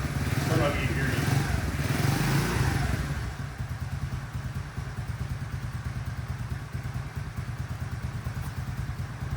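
A small CT70-style motorcycle engine with a Nibbi carburetor, choke off, revs up loudly at first, then settles into a fast, chugging idle heard close up, with a voice speaking over it.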